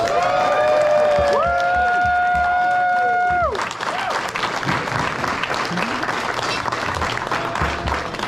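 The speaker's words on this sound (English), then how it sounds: "let's give the ladies of NEDCO a round of applause." Clapping and cheers fill a banquet room at a drift series awards ceremony, rising after a stretch of music with sustained tones and continuing as a dense, steady wash of applause.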